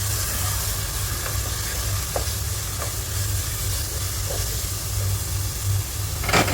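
Chicken curry with coriander leaves stirred in a pan over a constant sizzle, with soft scraping strokes of the spoon, close and steady, no talk.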